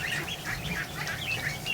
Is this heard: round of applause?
no